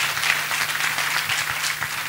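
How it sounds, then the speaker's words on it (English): A church congregation claps together during a testimony, a steady, dense wash of applause lasting a couple of seconds, fairly close, with a low hum running beneath it. "Let us clap for Mother Jesus."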